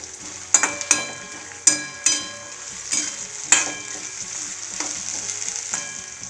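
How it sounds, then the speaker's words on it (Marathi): Potatoes, onion and peanuts frying in hot oil in a pan, a continuous close sizzle punctuated by several sharp stirring clatters early on, then settling into an even hiss with no voices. "आता याला दोन मिनटं चांगलं हलवून घ्यायचं आहे म्हणजे तेलामध्ये आपले बटाटे थोडेसे"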